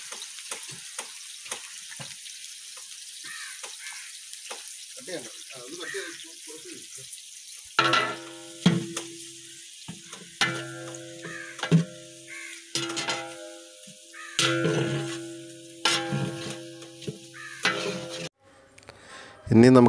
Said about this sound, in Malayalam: 5 കിലോ സവാള ചെറുതായി അരിഞ്ഞത് ഇതിനകത്തോട്ട് ഞാൻ ആഡ് ചെയ്യുന്നുണ്ട്.